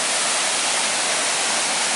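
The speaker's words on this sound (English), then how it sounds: "I've been waiting to come to this waterfall for a long time." A waterfall on Oregon's Eagle Creek Trail roars as a loud, constant, close wash of rushing water, steady from start to finish with no voices.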